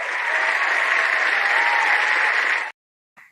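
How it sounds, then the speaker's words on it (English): A round of applause from a group of people, even and sustained clapping that keeps going for under three seconds before stopping sharply, with a brief faint sound just after. "We need a round of applause for all of us and all the stuff we're proud of this week"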